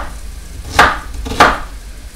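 A knife chops onions on a cutting board with two distinct, sharp, close thuds about half a second apart over quiet background noise.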